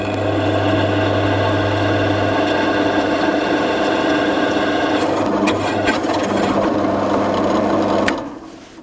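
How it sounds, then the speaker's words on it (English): A pillar drill runs steadily and bores a hole in a metal plate, a loud continuous motor hum with scraping and cutting clicks toward the end before it stops abruptly. "So this time I'm going to turn my drill on,"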